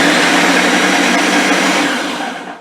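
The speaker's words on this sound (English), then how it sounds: "The Ninja is very, very loud, so I'm going to mix it, let you hear it for 1 second" A Ninja blender mixing pecan pie filling, a loud, dense motor whir held steady for a couple of seconds before spinning down.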